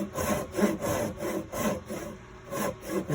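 A handsaw cuts a scarf joint in wood for a travel guitar build, with steady rhythmic back-and-forth strokes, close and clear, about eight strokes with no talking.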